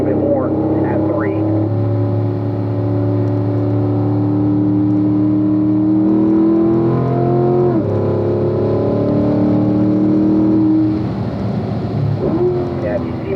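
Corvette engine droning at a steady pitch as it coasts through turn three at Spring Mountain's East track, with a dip and slight rise in tone midway, heard loud and close from inside the car.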